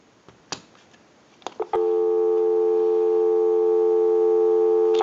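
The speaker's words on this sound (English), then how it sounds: "Go ahead and give you some dial tone." A few clicks and clacks, then a steady dial tone from an ITT rotary dial desk telephone hums continuously and loudly until the end.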